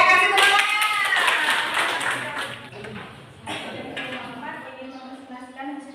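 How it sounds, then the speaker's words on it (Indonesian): Students in an Islamic education classroom clap together, a short burst of hand claps that fades within a couple of seconds, with voices speaking over it and talk continuing afterward. "Ya, kasih tepuk tangan."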